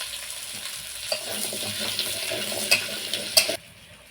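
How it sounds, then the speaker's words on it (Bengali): Two large potatoes cut into chunks sizzle in mustard oil with salt and turmeric, with a few spatula scrapes and knocks over the steady frying before it drops away abruptly near the end. "ওদিকে আলুটা ভাজা হচ্ছে"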